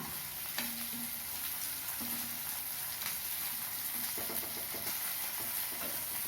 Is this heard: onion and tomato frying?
yes